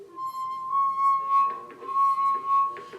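A clear, sustained high ringing tone from a rubbed wine glass rim, partly filled with water, hums steadily, swelling and fading in gentle pulses throughout.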